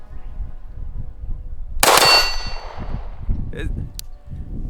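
A Cosaint COS21 subcompact pistol with a ported 3.5-inch barrel fires close to the microphone: one loud sharp report with a metallic ring that tails off, then a faint click, over low background murmur.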